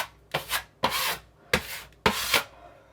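A drywall knife spreads joint compound over screw heads, making four distinct scraping strokes in an even rhythm, each a close, rough rasp with a brief pause between.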